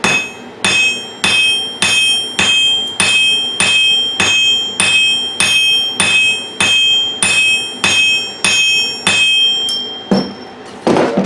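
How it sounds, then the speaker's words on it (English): A hammer pounds a bolt on a Vevor 66-pound steel anvil with about fourteen loud, evenly spaced blows. Each strike rings out metallically up close. "I have pounded the life out of that bolt."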